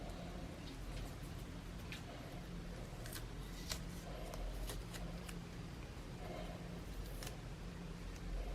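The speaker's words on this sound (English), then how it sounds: "we're now removing the masking tape to reveal the patterns" Masking tape being peeled from a painted Char's Zaku II model kit, giving a steady, close crackling rasp with a few sharper snaps, continuous throughout with no talk.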